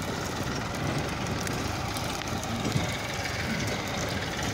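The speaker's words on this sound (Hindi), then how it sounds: "लाइन लगी हुई है ट्रैक्टरों की," A line of tractors idles in an open farm field where soil is being changed, a steady low engine rumble and broad noise running continuously at moderate level with no speech.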